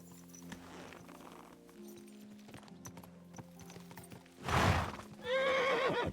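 In the video game Kingdom Come: Deliverance II, hooves clop steadily at a walk, then a horse snorts and lets out a loud, close whinny near the end.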